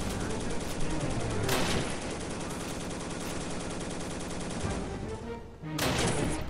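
Rapid bursts of rifle and machine-gun fire from the World War II video game В тылу врага (Men of War) rattle almost without pause, loud and close, with a brief lull near the end before another burst.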